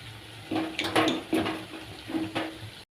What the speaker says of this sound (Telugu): కాలీఫ్లవరు చెన్న వేసేసి వాటర్ వేసానండి.